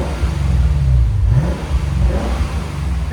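A 2025 Lexus IS 500 with a 5.0L V8, an X-pipe and Magnaflow Magnapacks revs hard nearby. The exhaust gives a loud, deep, rising roar and a throaty rumble that fill the whole moment.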